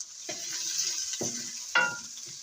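Green chillies with ginger and garlic fry in a pan for a mixed vegetable dish, a soft steady sizzle broken by a few brief stirring scrapes.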